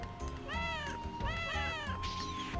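A cat in the video game Wild Arms meows three times in quick succession, each call a clear, rising-and-falling whine heard alone at low volume.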